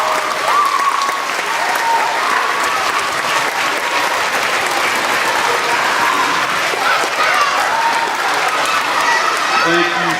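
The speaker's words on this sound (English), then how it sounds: "y'all help me give them a huge round of applause for all of our teachers" Loud, sustained applause from a crowd of elementary school students filling a school assembly for their teachers, paras and secretaries at an award presentation, steady dense clapping throughout with faint cheering mixed in.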